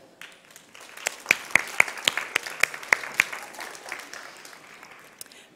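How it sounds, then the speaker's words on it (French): Light, scattered clapping from a modest crowd after a demonstration of Honda's ASIMO humanoid robot at a robotics event, with distinct individual claps peaking briefly then thinning out, heard in a quiet hall. "Je crois que nous pouvons l'applaudir"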